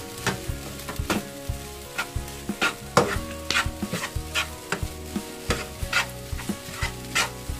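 Cup noodle fried rice sizzles in a frying pan while a utensil stirs and scrapes in quick, uneven clacks over a continuous fry, close-up with no voices.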